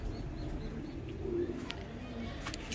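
Pigeons in a fancier's loft in Faisalabad coo softly and continuously, low murmuring calls layered close together over steady room ambience, with a few faint higher chirps.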